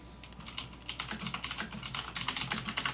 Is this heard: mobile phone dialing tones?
no